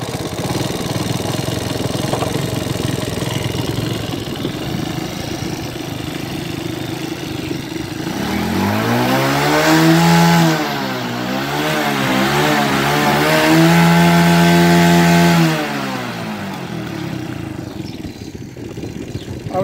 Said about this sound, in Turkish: Karbüratör ayarı yapıyor.